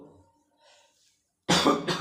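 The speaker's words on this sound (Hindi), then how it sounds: "सॉरी दोस्तों, खांसी आ रही बहुत तेज।" Faint background murmur, then one sharp, loud cough close to the microphone with a short follow-up burst.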